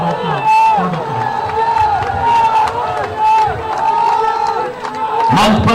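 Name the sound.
crowd applauding and cheering at a BJP rally in Dabra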